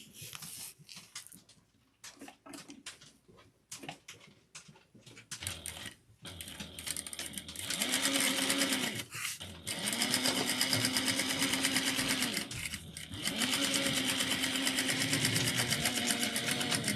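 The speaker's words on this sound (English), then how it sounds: "we're going to sew this down with the 1/4 of an inch seam allowance" A sewing machine stitches fabric along a quarter-inch seam, beginning with a few scattered clicks and handling noises, then running in three long, steady, close bursts with brief pauses between them.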